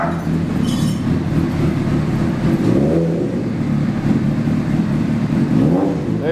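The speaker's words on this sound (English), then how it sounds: "Fire this thing up with the new motor" A 2003 Honda CBR 600RR, freshly fitted with a new motor, runs loud and near at a steady rumbling idle with small surges in revs.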